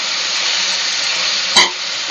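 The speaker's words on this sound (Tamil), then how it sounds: "இது சும்மா ஒரு 5 நிமிஷம் வதக்கிட்டு" Tomatoes sautéing in a pan for Kannada-style bassaru give a steady, loud sizzling hiss throughout, broken near the end by a brief sharp clatter as the pan is stirred.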